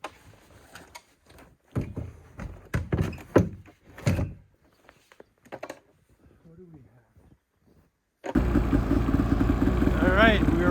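A snowmachine engine starts up and runs steadily, a loud continuous drone with rising and falling revving tones near the end, following a stretch of talk and quiet knocking sounds.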